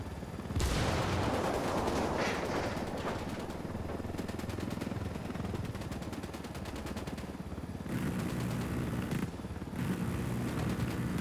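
Sustained gunfire in the video game Ghost Recon Wildlands, a loud, dense barrage of rapid shots and bursts with cracks and booms layered over each other, continuing almost without pause.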